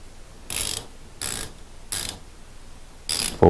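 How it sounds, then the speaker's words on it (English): A ratcheting pass-through wrench clicks in four short bursts, each a quick rattle of pawl clicks separated by brief pauses, close and distinct. "Not exactly the nicest ratchet I've ever felt."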